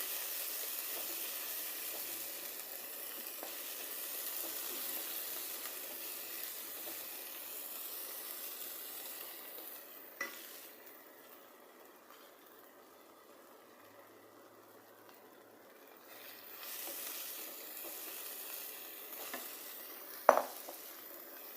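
Drumstick leaves frying in a pan, a soft steady sizzle with faint scraping as they are stirred, a couple of sharp clinks of the utensil against the pan, quiet and close with no talk.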